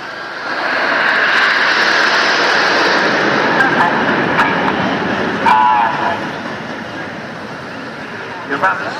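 Red Arrows jets flying display formations at the Portrush Air Waves air show, a loud sustained engine roar that slowly fades toward the end, with a commentator talking over it.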